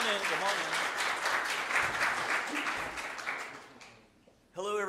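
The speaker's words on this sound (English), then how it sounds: "give a big round of applause for those." Audience applause fills a conference hall at a talk on Minishift, loud and sustained with dense clapping for about four seconds, then fading before a voice begins speaking close by.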